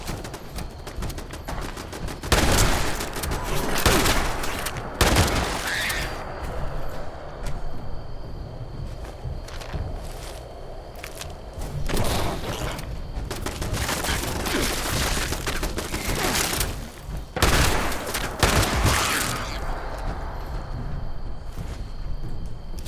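Gunfire in Fallout 76, repeated bursts of loud shots and sharp cracks spread across the clip with quieter gaps between, near and punchy.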